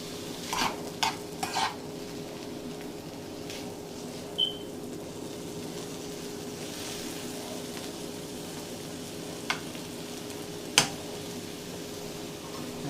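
Shrimp frying in a pan for chicken and shrimp nachos, a steady soft sizzle under occasional clinks and scrapes of stirring, with a few sharper taps, all close and fairly quiet with no talking.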